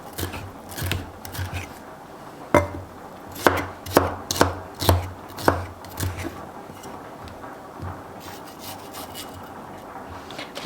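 A knife chops spring onion on a cutting board in a home kitchen, a string of crisp separate cuts with irregular pauses. Quieter knife movement comes in between the cuts, and a voice is faintly audible.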